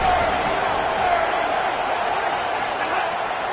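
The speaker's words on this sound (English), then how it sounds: "Listen to this crowd just shaking the girders of this place trying to help their defense." A football stadium crowd roars to support the defense in a dense, continuous wash of cheering and noise that holds steady and loud throughout.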